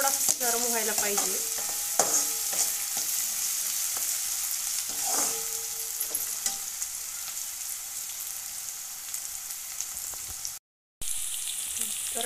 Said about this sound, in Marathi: गॅस मोठाच ठेवला आहे सध्या, कांदा जास्त आपल्याला ब्राऊन करायचा नाही, थोडासा त्यात थोडा अगदी थोडा नरम व्हायला पाहिजे।